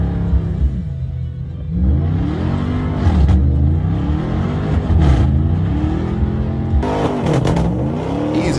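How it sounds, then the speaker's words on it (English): Ram TRX pickup truck engine revving off-road, a loud, close V8 rumble rising and falling through several throttle bursts with sweeping pitch changes and no voices. "He over here driving that TRX."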